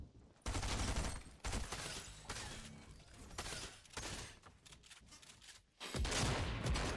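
Gunfire in the video game Fortnite, with dense bursts of shots and impacts filling most of the stretch, loud and close, dipping briefly before a renewed heavy volley near the end.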